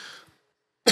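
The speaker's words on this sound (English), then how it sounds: "Those are the weed coughs." A person coughs after smoking CBD or Delta 8 on a podcast. A raspy exhale trails off, then a single abrupt, loud close cough cuts in at the end.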